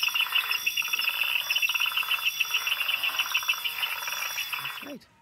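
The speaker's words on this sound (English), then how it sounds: "It's a frog." A frog in a backyard croaks in a rapid trilling series of pulsed calls, close and loud, repeating in bursts before cutting off abruptly.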